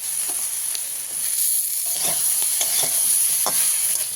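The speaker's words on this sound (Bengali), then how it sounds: "এবার মশলার সাথে ভালো মতো কষিয়ে নেব।" Spices sizzling in a hot pan with green chillies, a steady frying hiss with repeated scraping stirs of a spoon, close and continuous, while making rohu fish curry.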